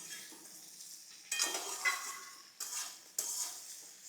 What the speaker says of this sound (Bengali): এবার এটাকে নাড়ব।